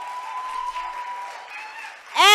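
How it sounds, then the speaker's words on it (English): A crowd applauding at a youth-led panel discussion, a steady wash of clapping that grows louder and fuller in the final moments. "Please give them a round of applause."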